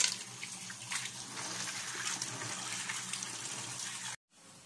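Water splashes and gushes steadily as mussels get their fourth rinse. The sound is fairly faint and continuous, then cuts off abruptly near the end.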